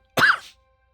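A single sharp cough close to the microphone, one brief burst with a raspy throat-clearing tail, followed by near silence, during a Star Trek tabletop role-playing session.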